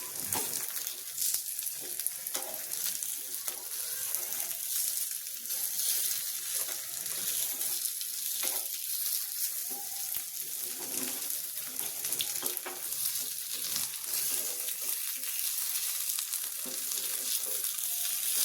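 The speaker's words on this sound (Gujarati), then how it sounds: "હવે આપણે નીચેની સાઈડ પણ સરસ એવો નાસ્તાને શેકી લેવાનો છે" Poha snack fries in a pan with only a couple of drops of oil, giving a steady, even sizzle that runs unbroken throughout with no talking.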